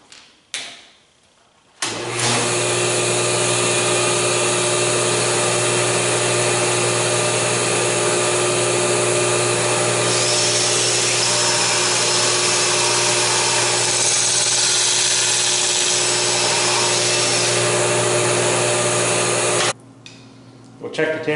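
A table saw fitted with a barrel taper tool starts up and runs through wood for about eighteen seconds, a loud steady motor whine with a harsher cutting tone partway through, then cuts off abruptly.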